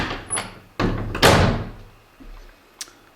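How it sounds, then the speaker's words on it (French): Closing a door in a bathroom at the Château de Fougeret gives a soft creak followed by a firm thud and a rattle of the latch, close up, with quiet room sound afterward. "on referme la porte"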